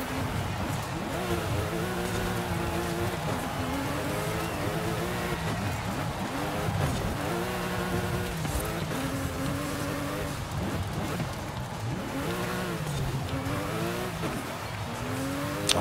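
Racing cars in the video game Forza Horizon 5 roar continuously, engines revving up and down through gear changes, loud and steady with occasional tire noise.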